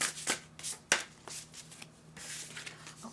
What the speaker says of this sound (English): let's get one from this deck and make sure I'm shuffling it upright